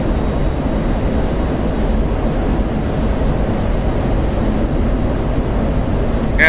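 An F-16C in DCS World rolls down the runway on afterburner for takeoff, a dense, steady, loud roar that holds unbroken throughout.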